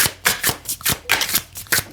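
Tarot cards are shuffled by hand in quick, crisp bursts, about eight riffling swishes in two seconds, close and loud with no talking.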